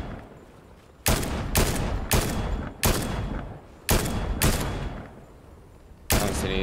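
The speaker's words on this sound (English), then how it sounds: "They're shooting south, not at us though." Fortnite gunfire in bursts: six or seven loud, sharp volleys cracking out at irregular intervals over a low ambient bed, no voices over them.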